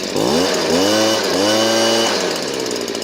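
A Stihl BG56C leaf blower's small engine runs after a carburetor adjustment, its tone swinging up and down in a few quick revs, then settling into a steady, loud, close drone.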